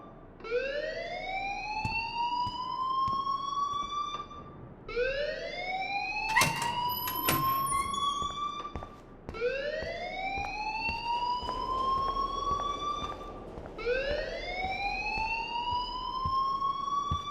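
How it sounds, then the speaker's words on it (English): A fire alarm in the Life is Strange video game wails loudly and steadily in four long rising sweeps, each climbing in pitch before restarting, with a few brief knocks and clatters in between and no voices. "please turn off that alarm since that's your job"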